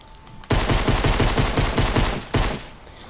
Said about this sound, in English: this gun came out of nowhere. It sounds just like a pistol.